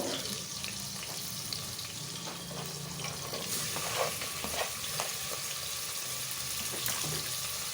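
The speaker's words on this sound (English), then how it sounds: "I'll fry it roughly along with some tomatoes" Onion and tomatoes frying in a pan for chicken curry, a steady close sizzle with occasional scraping stirs and a faint watery clatter in the background.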